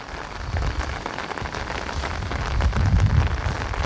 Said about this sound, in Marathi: आता पाऊस यायला लागला आहे